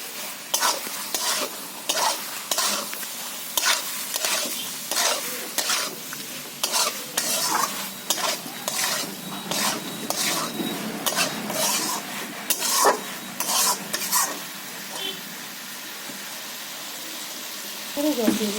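Soybean chunks fry in a pan with a steady sizzle, while a utensil scrapes and knocks against the metal in repeated strokes. The stirring stops toward the end and leaves only the hiss.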